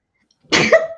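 A single short, sharp sneeze bursts out nearby after a moment of silence, loud and abrupt.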